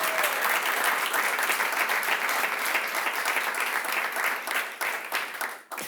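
A live audience at a French-language show breaks into sustained, dense applause, steady and close for several seconds before tapering slightly near the end.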